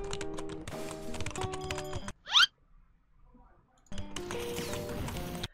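Typing on a rubber computer keyboard: quick bursts of soft, dull key presses in a close, uneven rhythm, broken by a sharp short chirp and a brief quiet gap before the typing starts again.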